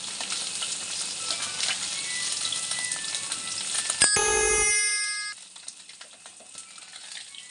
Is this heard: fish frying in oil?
yes